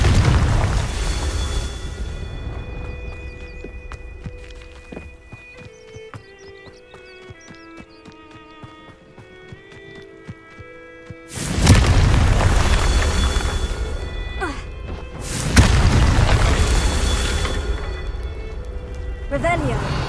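Confringo fire spell blasts in the Hogwarts Legacy video game, two loud booming explosions with rumbling decay, following a quieter stretch of chiming magical tones and light game effects.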